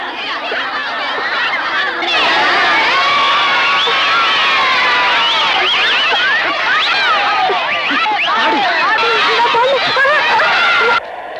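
An audience at a singing event erupts in loud shouting, cheering and chaotic crowd noise, a dense roar of many voices with children's shrieks that surges after a quieter start and holds near and intense before cutting off.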